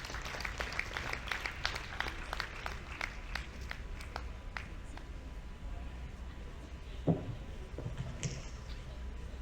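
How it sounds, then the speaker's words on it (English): A round of applause at a nurse leaders conference, steady clapping from a seated audience that fills the first several seconds and then thins out, with scattered claps and some room noise afterward. "Please, a round of applause."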